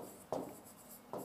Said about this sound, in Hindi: तो मैं यहां लिख देता हूं